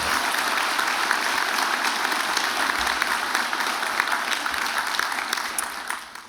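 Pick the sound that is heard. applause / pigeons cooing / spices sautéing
applause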